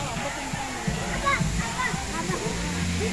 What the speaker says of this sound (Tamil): ஸோ வாட்டர் ஃபால்ஸ் பாருங்கள்